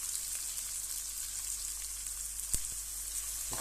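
Onions frying in oil with garlic paste, bay leaf, cardamom and cinnamon, a steady close hiss and sizzle throughout with one brief clink of a spoon.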